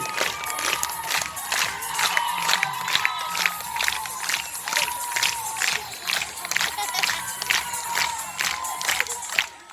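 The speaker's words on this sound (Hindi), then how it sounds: "तालियां, हाथ ऊपर उठा के, शाबाश" A school audience at a Republic Day event claps in quick rhythmic bursts and cheers loudly, with children shouting throughout the whole stretch.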